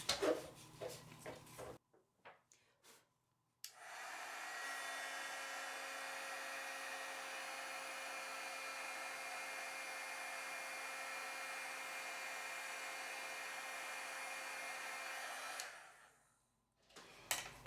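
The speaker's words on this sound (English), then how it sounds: "What you would do then is just take your heat gun and go ahead and heat set that." A heat gun blows steadily for about twelve seconds to heat-set pigment ink on a handmade card, a smooth, loud hiss-like whoosh with a faint hum, preceded by brief handling clicks and dying away at the end.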